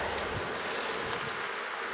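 Honey bees buzz steadily inside an open hive during an inspection of the honey super, a dense, even drone filling the whole moment with a brief louder touch at the very end.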